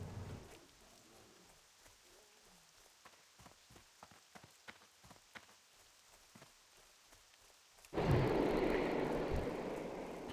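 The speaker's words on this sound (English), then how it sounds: "It's like I log in, it's raining." Rain falling in World of Warcraft, a steady hiss of drops at moderate level for most of the time, then a sudden loud surge of downpour near the end.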